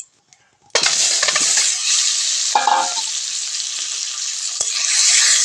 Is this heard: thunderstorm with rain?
no